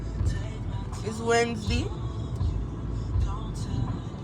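A Mercedes CLA 250 on a morning drive, heard from inside the cabin as a steady low road rumble with some brief higher swells. A person talks over it throughout.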